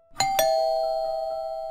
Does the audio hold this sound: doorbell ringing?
yes